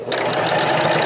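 A short, close burst of sewing machine back stitching on a thick duck pillow, a continuous steady whir with no talk over it.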